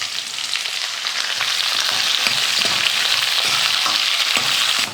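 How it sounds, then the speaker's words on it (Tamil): Sliced onions frying and being stirred in a pan for a home lunch-box rice dish, a steady close, loud sizzle with occasional spoon scrapes and no talking. "அந்த வெங்காயத்தை சேர்த்துக்கிறேன்."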